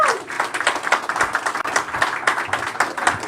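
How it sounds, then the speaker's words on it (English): Sustained audience applause for the candidates at a Wisconsin political forum with Evers and Barnes, many hands clapping densely and steadily throughout, fairly loud and close. "One more round of applause for the candidates."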